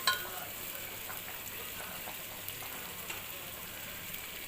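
Tomatoes fry in a pan while being stirred for a Kerala-style dum biryani, giving a quiet, steady sizzle with light spattering crackles and occasional stirring scrapes.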